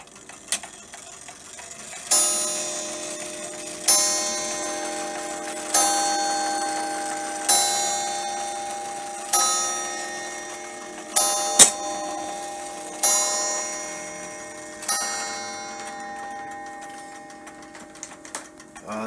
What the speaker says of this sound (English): let you hear it chime on the hour.